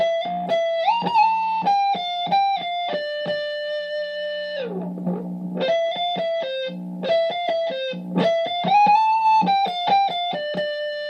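Electric guitar lick from a solo, played as fast hammer-on phrases with bright sustained notes that break off into a short muted, scratchy pause before the legato runs resume, alone and fairly loud.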